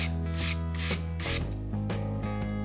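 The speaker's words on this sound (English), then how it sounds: "that soft wood with the wire brush, you're lightening it up" A wire brush scrubs charred softwood during shou sugi ban finishing, making steady, loud rasping strokes that repeat in a quick back-and-forth rhythm, with a low steady hum beneath them.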